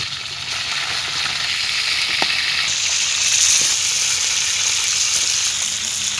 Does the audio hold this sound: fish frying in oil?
yes